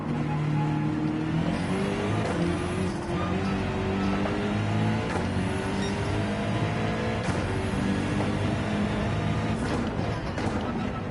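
A powerful BMW race car engine in Gran Turismo 7 drones and revs steadily throughout, loud and continuous, with rising and falling engine pitch during a daily online race.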